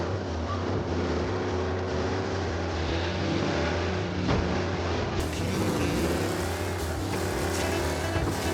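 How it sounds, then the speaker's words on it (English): A race car roars past on night roads in the Mafia: Definitive Edition game, a loud sustained engine drone that swells and shifts pitch as it passes, with no talk. "Be alert for a race car out on the roads tonight."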